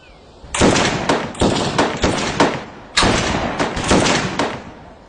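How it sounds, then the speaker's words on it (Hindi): Guns fire during army training in two rapid, loud volleys of sharp cracks, each made of several quick shots, separated by a brief pause and ringing out in the open. "5 राउंड ग्रुप फायरिंग।"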